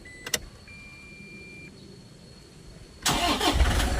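A Toyota Fortuner with a newly replaced battery starts on the first try after a few faint clicks and a quiet pause, then its engine catches and runs loudly.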